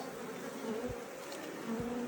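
A dense, steady swarm of honeybees drones continuously at a crowded package-bee hive, a close, even buzzing with no voices over it.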